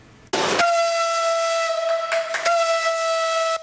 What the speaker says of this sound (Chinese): 行驶38年之后，编号353的比利时蒸汽火车头再度在旗山火车站内响起鸣笛声